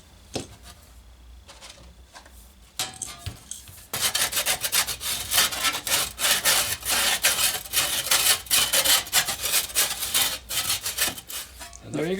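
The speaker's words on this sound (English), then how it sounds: "We're going to take a deburring tool to go around the edge in this fashion." A deburring tool is drawn around the edge of a metal part for a model steam locomotive. It makes a steady, close scraping rasp in repeated strokes, quiet at first and then much louder and more continuous.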